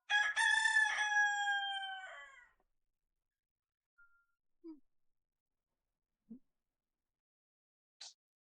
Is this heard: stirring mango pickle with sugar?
no